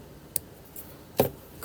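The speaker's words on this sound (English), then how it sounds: "We need a little bit more piece of the spring, so we cut it." Wire spring for a turquoise wrap bracelet is cut, giving two short, sharp snips close by, the second louder, against quiet background.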